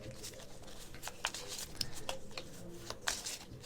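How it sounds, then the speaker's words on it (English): A deck of game cards is shuffled up close, with quiet, repeated riffles and papery flicks in a soft, irregular rhythm over a faint room background. "each player is going to shuffle up their starting decks"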